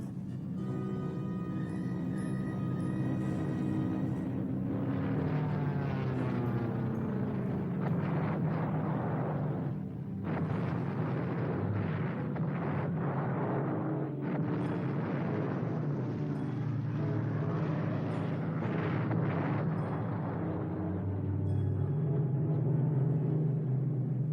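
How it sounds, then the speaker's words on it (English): Round-the-clock aerial bombing by hundreds of warplanes on a Pacific island before a WWII invasion, heard as a continuous loud rumble of blasts and roaring engines with repeated heavier booms throughout, no voices. "1 week before, 400 planes began round-the-clock bombing."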